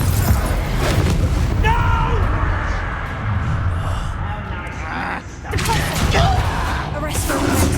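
Confringo fire spell explosions in Hogwarts Legacy, loud booming blasts and crackling bursts filling the scene with dense rumbling, with a voice speaking over the action.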